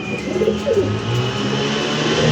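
Pigeons coo softly in low, rolling calls, a few close by, over a steady background hum.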